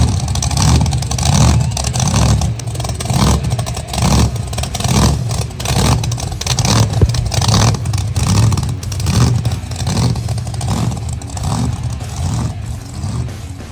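A hot rod's engine revs and rumbles steadily as the car arrives, with a loud, throaty low drone and repeated throttle swells over about fourteen seconds, without talk.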